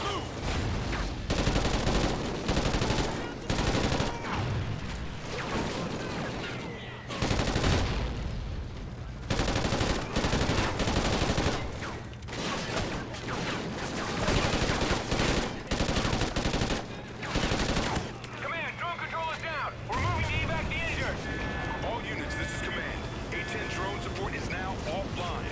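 Dense fusillades of automatic gunfire and machine-gun bursts from the Call of Duty: Ghosts campaign mission Homecoming, loud and sustained, with a voice talking over parts of the battle.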